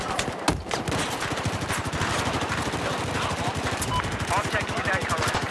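Automatic gunfire in Battlefield 4 during a Conquest match on the Flood Zone map, a long, rapid, evenly spaced burst of loud shots hammering on without pause amid ambient battle noise.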